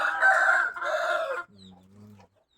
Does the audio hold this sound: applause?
no